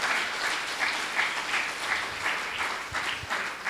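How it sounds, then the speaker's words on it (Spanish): A church congregation at Iglesia Emanuel in El Salvador applauds after a sermon declaration, a steady wash of many hands clapping at moderate distance, continuous for a few seconds with little talk. "Le podemos dar un aplauso a eso, a la palabra del Señor"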